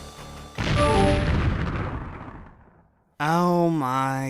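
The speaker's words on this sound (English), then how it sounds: "You are highly startled by the totally unexpected explosion." A sudden loud explosion sound effect in Homestuck bursts in with a deep boom and a long rumbling decay that fades to silence, followed by a voice speaking.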